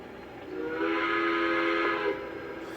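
The steam whistle of a Lionel Legacy Pennsylvania Railroad B6 0-6-0 switcher model locomotive, at a higher pitch setting, blows high and steady for about two seconds, sharp and shrill, then cuts off, leaving a low background hiss.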